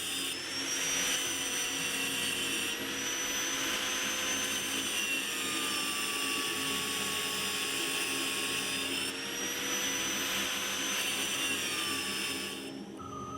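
An angle grinder cuts a steel chef's knife blade clamped in a vise, a loud, continuous high whine that stays steady, with a brief dip in pitch midway and a fade at the end.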